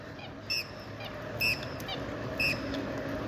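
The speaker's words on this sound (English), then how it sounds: "those are eastern coots, which are Australian native birds. These guys can be a bit noisy, as you can hear" Eastern coots, native Australian waterbirds, give three short sharp honking calls about a second apart, moderately close over a steady outdoor hiss.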